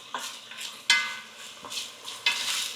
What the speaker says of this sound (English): so we get our onions in here, get that going